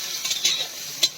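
Onions frying in a pan as they are stirred, with a steady sizzle and short scraping bursts from the stirring, close and fairly quiet.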